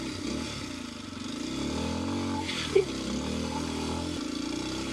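A Kawasaki KLX230S dual-sport motorcycle rolls over deadfall on a steep forest road, its engine droning steadily up close with a brief clunk or knock partway through.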